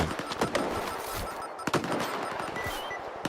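Scattered gunshots in the shooter STALKER 2, friendly fire from allies: several loud cracks at irregular intervals over a steady rumbling background, some near and some farther off.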